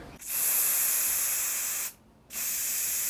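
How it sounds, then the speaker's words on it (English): Aerosol fixative sprayed onto a charcoal drawing from about two feet away, two steady hissing bursts separated by a brief pause, close and clear. "I'm going to spray it forwards and then it will drift down."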